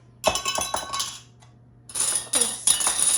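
Canning gear for water-bath salsa, including a funnel, jar lifter, lid magnet, lids and rings, clinks and clatters as metal pieces knock together in a few bursts of sharp, close rattles separated by a short pause.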